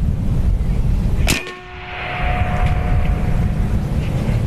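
A .50 caliber AEA Challenger bullpup air rifle on a 4,500 PSI fill fires one sharp crack, and the pellet strikes a steel target with a ringing clang that hums and decays for a couple of seconds over steady background noise.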